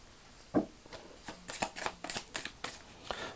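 Oracle cards being shuffled by hand for a tarot-style reading, a quick run of soft riffling slaps and brushing flicks, close and fairly quiet, with no voices.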